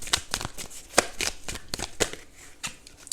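A deck of oracle cards being shuffled by hand, a close series of quick crisp riffles and slaps in an uneven rhythm.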